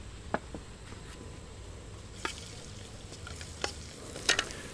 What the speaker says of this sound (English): You don't want to burn the garlic, just let them gently fry.